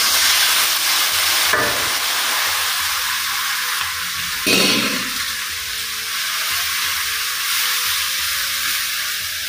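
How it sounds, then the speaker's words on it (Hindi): Boiled sangri beans tossed into frying masala in a pan for Rajasthani ker sangri, a loud continuous sizzle and hiss with a couple of stirring clatters over it, no voices. "अब उबलड़ी सांगरी गेर जा"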